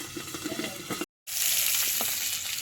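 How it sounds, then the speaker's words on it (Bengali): Pabda fish sizzling in hot oil in a pan, a steady crackling fry that cuts out briefly and then resumes louder and brighter, with no voices. "এইভাবে আমি মাছ কটা ভাজতে দিয়ে দেবো"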